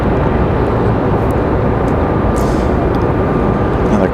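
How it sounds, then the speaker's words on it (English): An Airbus A220 airliner arriving at Raleigh-Durham airport makes a loud, steady broadband jet roar that holds evenly for the whole span, with no talk over it. "Got an A220 arriving a moment ago."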